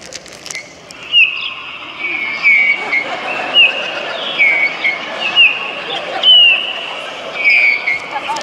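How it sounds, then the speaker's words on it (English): Birds chirp in short, repeated high whistled calls every second or so, moderately loud over a quiet background with faint murmur. "Listen to the birds."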